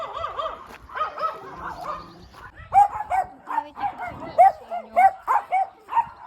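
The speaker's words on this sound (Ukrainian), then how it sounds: "Вічно гавкають, абсолютно." Small dogs bark in a rapid, repeated burst of high, yappy barks and yips, fairly close, with voices audible beneath and before them.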